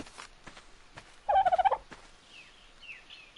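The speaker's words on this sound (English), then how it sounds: "These are dodos." A dodo bird in the video game Ark lets out a short burst of rapid gobbling pulses, close and distinct, amid quiet game ambience with faint chirps afterward.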